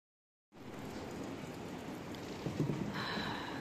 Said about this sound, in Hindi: दोस्तों बारिश हो रही है